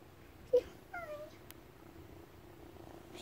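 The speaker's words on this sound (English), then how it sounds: "This is one of the baby kittens." A baby kitten gives a couple of faint, short meows in a quiet outdoor setting, with soft background noise between the calls.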